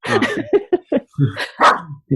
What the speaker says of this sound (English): The dog was barking, so we had to edit that bit out.